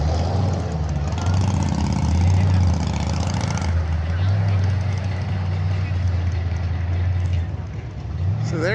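Cars and trucks at an outdoor car show cruise-in, engines idling and rumbling steadily with a low throb as vehicles roll past; a deep engine drone persists throughout with crowd chatter and voices underneath.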